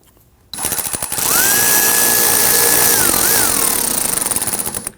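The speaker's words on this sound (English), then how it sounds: "You want to go ahead and get our screws installed on our fender liner." A cordless power drill drives screws into the plastic fender liner of a 2009-2017 Volvo XC60, a loud whirring burst lasting several seconds that rises in pitch, dips, then ends with stuttering clicks.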